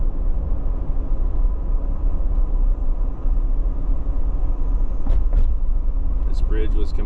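Car rolling down a hurricane-damaged, closed-off road after Hurricane Helene, a steady low engine and tire rumble throughout, with brief voices near the end.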